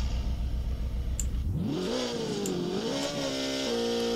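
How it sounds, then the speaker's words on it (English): A car engine at idle rises into revving that sweeps up and down in pitch, with a faint pop of backfire near the start, heard close and alone. "you can faintly see and hear a bit of backfire there"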